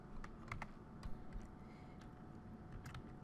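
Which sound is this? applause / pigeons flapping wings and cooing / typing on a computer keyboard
typing on a computer keyboard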